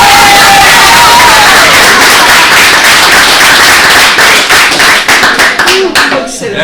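A live audience bursts into loud, sustained applause and cheering, dense clapping that thins into scattered claps near the end, with a voice briefly audible at the start and close.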